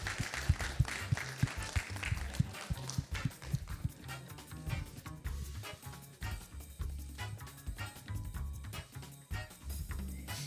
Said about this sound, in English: Can I get some applause, please?